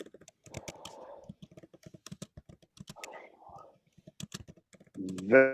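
Rapid clicking keystrokes on a keyboard tap along steadily, while soft whispered voices murmur between them and a brief hum rises at the end.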